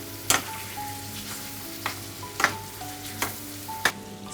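Tomatoes and green chilies fry in a pan with a soft steady sizzle, broken by a few sharp clinks and scrapes of a spoon stirring.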